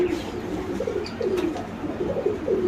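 Caged pigeons at a bustling pigeon market give soft, repeated low coos close by, one after another, over a steady background murmur.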